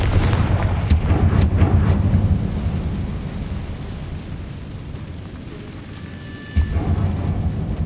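A Confringo blasting spell explodes in the Hogwarts Legacy video game: deep, rumbling booms with sharp cracks early on, fading to a low roar, then a fresh thump near the end, with no talking.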